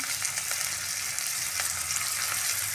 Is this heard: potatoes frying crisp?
yes